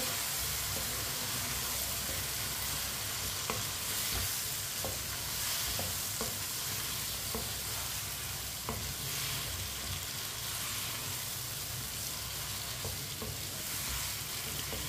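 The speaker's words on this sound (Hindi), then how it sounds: "टिंडे डाल लेंगे, अच्छी तरह मिक्स कर लेंगे।" Chopped tinda, apple gourd, goes into a hot pan and is stirred through, a continuous dense sizzle with repeated light scrapes and knocks of the spoon over about fifteen seconds.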